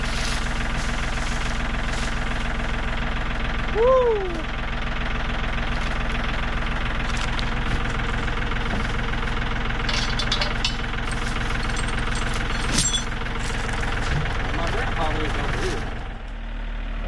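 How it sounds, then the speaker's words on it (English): A tractor's engine runs steadily at a heavy, knocking idle while preparing to grab and lift a large log for firewood, with a voice briefly whooping and people talking over it. "I don't know if this tractor will lift that right."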